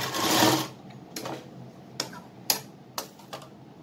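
A sewing machine stitches pleats into a cotton doll dress: a brief continuous whir of stitching, followed by several distinct mechanical clicks and taps at close range, with no voices.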